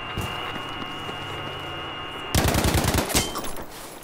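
STG 44 assault rifle fire in the Battlefield 5 game, a loud close burst of rapid automatic shots breaking in after a steady rumbling battlefield hum.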